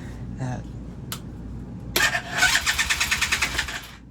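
A motorbike engine is cranked repeatedly but fails to catch: after a couple of brief knocks, a close, loud starter churns in steady rhythmic pulses for about two seconds.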